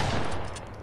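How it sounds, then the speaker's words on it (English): Rapid burst of gunfire from a Fortnite match, a dense continuous rattle that stays loud and steady for under a second with no voices over it. "Why are you shooting me?"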